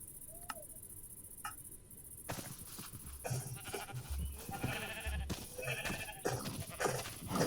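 Sheep in a block-building video game bleat a few times amid ticking and soft background game sounds at moderate level, with no talking.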